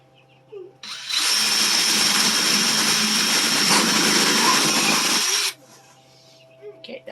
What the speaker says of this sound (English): I'm going to drill a hole in this bucket